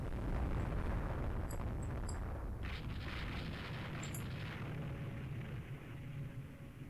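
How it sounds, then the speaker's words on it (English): Enemy warships open fire in the naval strategy game Rule The Waves 3, set in 1899 with the German Empire. Shell blasts and explosions merge into a loud, continuous rumbling barrage with no talk over it. "They keep shooting at us."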